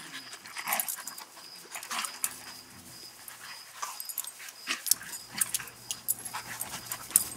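Dogs scuffle and play nearby, with quick panting, small whimpers and yips over a steady rustling background.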